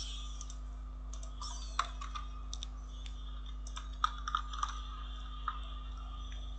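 Sparse, soft keystroke clicks on a computer keyboard while PHP code is typed, a few sharper taps scattered over a faint steady background hum; no one speaks.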